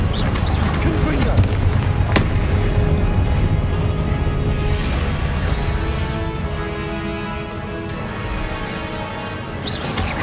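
Confringo blasting spells explode in the Hogwarts Legacy video game as a dense, continuous barrage of booms and crackling blasts with a sharp crack near the two-second mark, layered over busy game sound.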